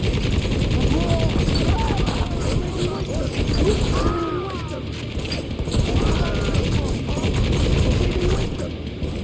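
Rapid gunfire and mechanical clatter fill a frantic Necromunda: Hired Gun firefight, loud and continuous with bursts overlapping throughout, while a voice talks underneath.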